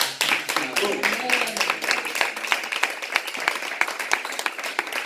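A church congregation claps and applauds, brisk uneven handclaps over a voice speaking, moderately loud and continuous.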